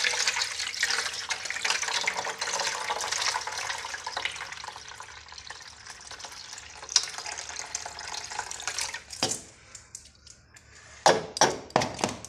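Water poured off washed rice streams steadily into a sink for several seconds, then breaks into a few short splashing bursts near the end, with no voices.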